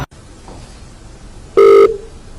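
A single short, loud electronic keypad tone sounds once against a quiet, faintly hissing background.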